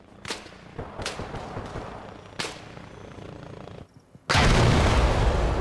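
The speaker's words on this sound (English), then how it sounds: "After that building exploded" A building blows up in the military shooter ARMA Reforger: several sharp distant bangs and thuds ring out, a brief lull follows, then a loud sustained roaring blast rushes in and fills the end.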